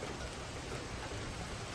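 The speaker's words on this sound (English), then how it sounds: "It's raining buckets." Heavy rain hammers down during a windy thunderstorm in Frisco, Texas, a thick unbroken wash of drops hitting surfaces near a porch, steady and fairly loud with no voices over it.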